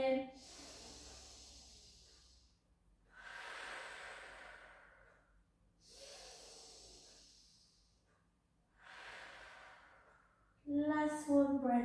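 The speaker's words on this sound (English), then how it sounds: "Take some nice breaths in." Slow, deep breaths during a Pilates stretch, with four clear inhale-exhale cycles close to the microphone and a brief sharper sound at the very end.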